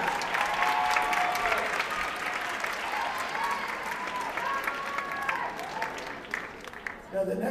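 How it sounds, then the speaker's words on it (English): Steady applause fills a school assembly hall, a dense crowd clapping continuously for several seconds before tapering near the end, with some voices blending in. "Nice round of applause."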